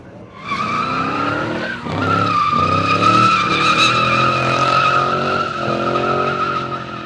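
Retro rallycross cars race in a heat, engines revving loudly and tires squealing and skidding through corners, a close, continuous roar of several machines.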